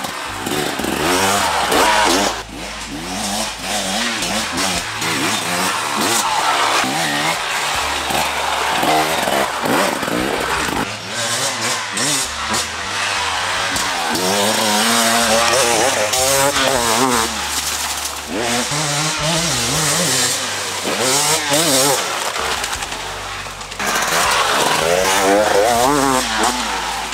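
A 2024 KTM 300 XC-W two-stroke dirt bike ridden through Ohio woods, its engine buzzing loud and close throughout with repeated revving rises and throttle blips, no talk.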